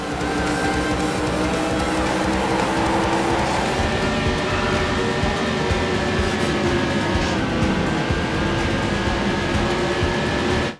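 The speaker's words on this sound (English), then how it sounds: "have fun driving in Daytona USA, or at least sliding all over the track out of control" Arcade racing game Daytona USA on the Sega Dreamcast, with a steady loud engine drone with sustained whining tones and dense rumbling track noise running continuously without pause, no voices.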